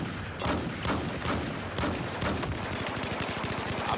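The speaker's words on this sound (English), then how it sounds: "I'm out of bullets, and this guy's shooting" Battlefield 4 gunfire, rapid bursts of shots cracking in quick repeated clusters, moderately loud and steady throughout with no talk over it.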